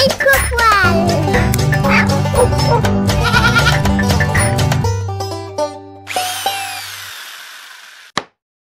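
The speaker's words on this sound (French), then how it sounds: "des chèvres perchées sur des cabanes de bois, comme si elles régnaient sur un royaume invisible" Goats bleat in a garden where they perch on wooden huts, their calls mixed with a steady musical backing that fades out before a last brief sharp sound.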